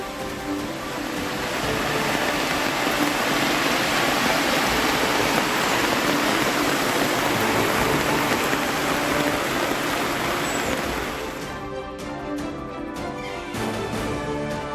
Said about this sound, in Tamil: நெல்லை மாவட்டம் வள்ளியூர் சுற்றுவட்டார பகுதிகளில் 1 மணி நேரத்திற்கு வெளுத்து வாங்கிய கனமழை.